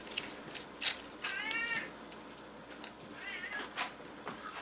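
A hungry house cat meows repeatedly in a kitchen, several short plaintive calls spaced across a few seconds, fairly faint against quiet background clatter.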